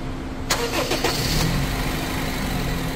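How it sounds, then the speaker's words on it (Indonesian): A Honda Freed engine cranks and catches with a brief burst, then settles into a very smooth, quiet, steady idle nearby, only injector ticking prominent. "suara mesin super halus"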